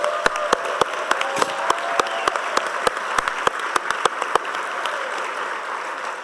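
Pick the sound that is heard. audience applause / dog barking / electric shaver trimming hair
audience applause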